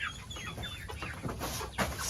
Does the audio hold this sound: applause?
no